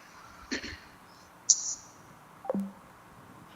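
Telephone being dialed, three short separate electronic tones spaced about a second apart over a quiet background hiss, close and fairly faint.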